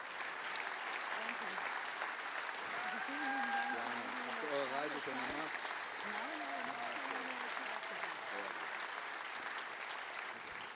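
A large crowd applauds continuously at FC Bayern Munich's annual general meeting while a voice speaks over the clapping through the middle, the dense hand noise staying steady and moderately loud.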